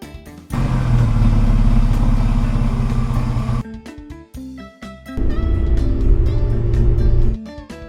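A jeep driving with a loud, close engine rumble in two sustained bursts separated by a short gap, music faintly underneath.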